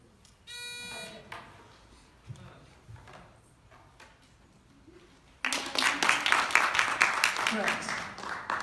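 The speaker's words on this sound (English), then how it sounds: "Circle, then hit the buzzer." A quiz bowl buzzer at an academic bowl tournament gives one short, harsh electronic buzz early on. Quiet talk follows, then a sustained burst of loud, clattering noise like applause.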